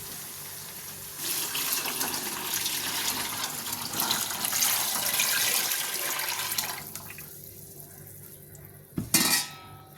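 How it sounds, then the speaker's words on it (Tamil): Tamarind water being poured into a pan while a fish curry cooks, heard as a loud, continuous splashing pour lasting several seconds, followed by quieter sizzling and a sharp clatter of a metal utensil near the end. "இப்போ புளி கரைச்சதை எடுத்து ஊற்றிக்கலாம்"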